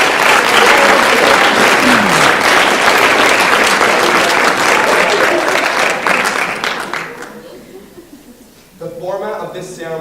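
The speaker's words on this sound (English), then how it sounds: "Let us give a round of applause for everyone that has made this past season." Loud, dense applause from the audience at an athletics awards ceremony, a sustained wash of clapping that fades out over several seconds before someone starts talking.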